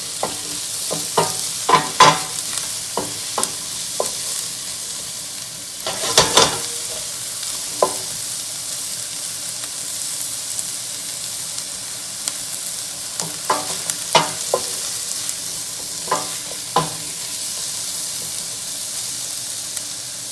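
Peppers for shakshuka sizzle over a high flame in a pan. The frying keeps a constant loud hiss, broken by clustered scraping and clattering as a utensil stirs them.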